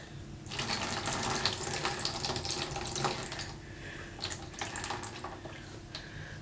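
Water runs and trickles out of a houseplant pot after watering, a steady close splashing flow that eases off and then comes back in a few brief gushes, with no talk.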